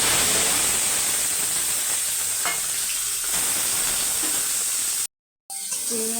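Prawns fry in hot oil in a pan, giving a loud, steady, hissing sizzle close by with faint stirring, broken by a brief silent gap before the frying resumes.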